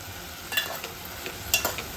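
Vegetables with capsicum and potatoes being stirred and sautéed in a pan, giving a soft low sizzle with two brief scraping stir strokes.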